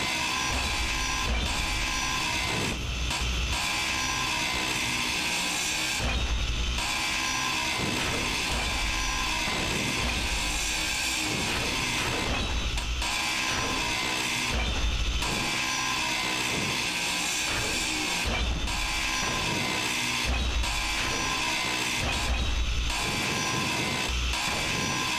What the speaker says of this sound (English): Grinding away here.